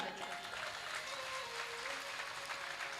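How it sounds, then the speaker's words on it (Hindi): A crowd claps at a seven-day Shri Ram Katha religious gathering, producing an even, distant-sounding patter of applause through a sound system with a low hum underneath, with no speech over it. "एक बार अपने लिए जोरदार ताली बजाएं।"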